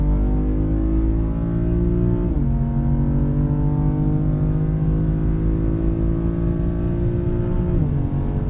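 A BMW M4 fitted with a RaceChip accelerating flat out from 100 to 200 kph, a loud in-car engine roar climbing in pitch through gears, with two brief drops at upshifts.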